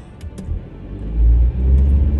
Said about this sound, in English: Today we're driving through Humble Park.